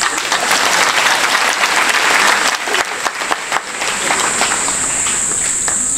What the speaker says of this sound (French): On va l'applaudir pendant qu'elle dit ça